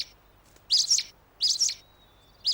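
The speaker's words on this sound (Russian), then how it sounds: "Шумные птицы." Cartoon birds chirp in three loud bursts of high, rapid tweets separated by short pauses, with no talking.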